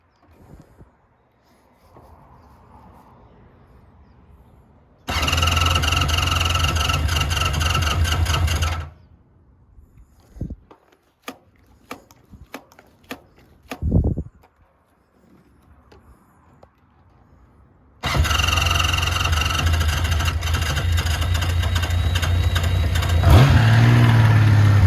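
A 1980 Honda CBX motorcycle engine cold-starts and runs in two long loud bursts, separated by a quieter stretch of clicks and knocks, with a rising rev near the end.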